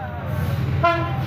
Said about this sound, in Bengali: ট্রেন আসছে, ট্রেন আসছে